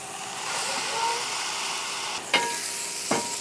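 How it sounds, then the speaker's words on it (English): Bologna slices frying in butter on a hot griddle, giving a steady close sizzle with a couple of sharp hissing bursts as the slices are pressed down. "And time to fry our bologna. Gotta love that sound."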